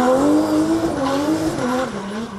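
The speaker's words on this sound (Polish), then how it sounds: "Idealna maszyna do driftingu, zwana diabłem." A 900-horsepower rear-wheel-drive drift car with nearly 75 degrees of steering lock screams through a slide at a Polish drifting championship, engine howling loud and close with wavering pitch as the tires squeal.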